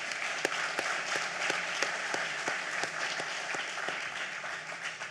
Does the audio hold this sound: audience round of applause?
yes